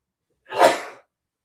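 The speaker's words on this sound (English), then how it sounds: "I'm going to sneeze." A single sharp sneeze, close and loud, bursting out of silence and ending quickly.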